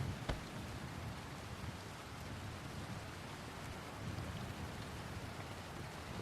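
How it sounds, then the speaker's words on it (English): Steady, dense rainfall in the video game Ruins of Tearyn, a continuous wash of drops with a brief sharp crack near the start, sustained evenly at moderate level throughout. "I'm gonna wait till the rain stops."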